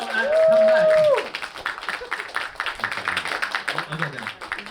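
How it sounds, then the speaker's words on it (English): Applause and clapping from an audience, a dense patter of many hands that continues for several seconds, with a brief tone at the start. "Can we get some big applause so they know?"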